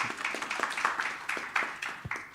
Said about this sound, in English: A round of applause deserved, I think.